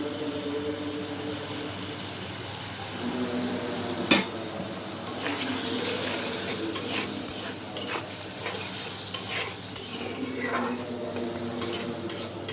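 Spice paste with chili powder, cumin powder and salt stir-fried in a pan for a mola fish curry, with a low sizzle under repeated scraping and clinks of a spoon against the pan.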